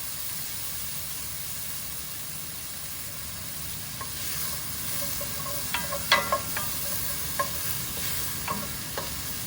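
Garlic drops into a hot pan of beef stroganoff and sizzles in a continuous close hiss, with sharp clinks and scrapes of stirring in the second half.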